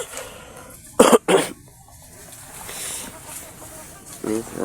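Two loud, close coughs in quick succession from someone with a cold and cough, one hoarse burst after the other, followed by quieter breathing and faint talk.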